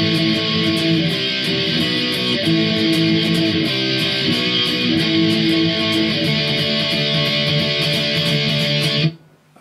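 Electric guitar with heavy distortion playing a song's pre-chorus, a sustained, thick wall of chords with shifting notes underneath, loud and steady until it stops abruptly at the end.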